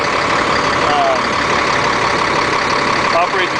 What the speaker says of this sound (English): bumps up the idle on the truck